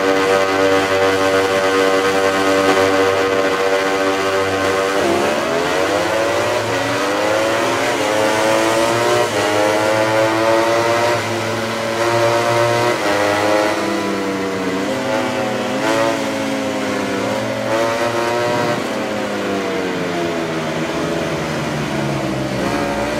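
MotoGP motorcycles on the grid at Le Mans in a racing game, engines droning and then climbing in pitch as they rev and accelerate away from the start, loud and continuous with no talk.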